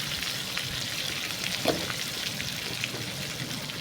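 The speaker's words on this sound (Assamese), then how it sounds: "আলু আৰু মাংসটো ধুনীয়াকৈ ভাজি লৈছোঁ" Potatoes and chicken frying in a pan, a continuous close sizzle and crackle with a few faint spatters and stirring knocks, no voices over it.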